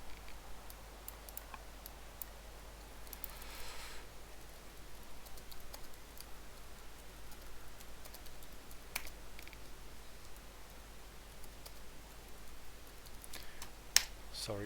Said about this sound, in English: Sorry, typing to answer questions.